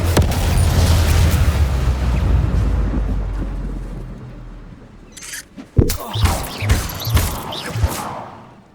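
A Confringo blasting spell in Hogwarts Legacy explodes as a long, loud, rumbling blast that fades over several seconds, followed by a cluster of sharp cracks and thuds.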